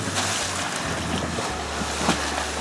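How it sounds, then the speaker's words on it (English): Heavy sea swells rolling through a rocky bay in Southern Tasmania, a loud, continuous wash of surf and water mixed with strong gusting wind buffeting the microphone close by. "oh there's a large swell going through"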